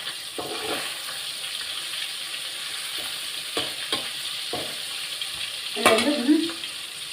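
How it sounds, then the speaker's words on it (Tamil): Fish pieces frying in hot oil for crispy fish chips, a steady low sizzle with scattered stirring clatters and a louder bubbling burst near the end. A voice speaks briefly. "இப்போ நான் வந்து எல்லா மீனும் வறுத்துட்டேன்"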